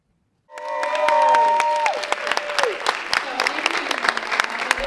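Audience at a district-sponsored Community Equity Summit breaks into sustained applause, loud and steady clapping from a large crowd that starts abruptly and carries on, with a musical tone sounding over it at the start.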